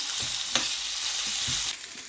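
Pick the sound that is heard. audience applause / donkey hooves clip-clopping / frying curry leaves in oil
frying curry leaves in oil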